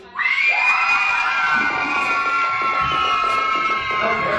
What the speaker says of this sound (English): So how loud can you guys scream?